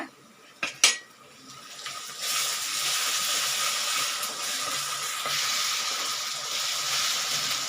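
Ginger garlic paste sizzling and sautéing in a hot pan while making pepper egg masala, a steady frying hiss after a couple of sharp metallic clinks of a utensil against the pan, with no talking.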